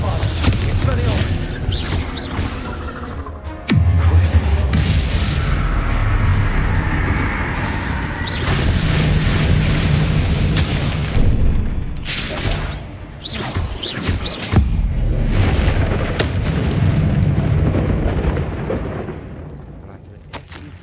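Spell explosions from Confringo and Bombarda blasts in the Hogwarts Legacy video game, a dense run of booms, crashes and whooshes layered over game music and ambience, loud and continuous with sharp bursts throughout.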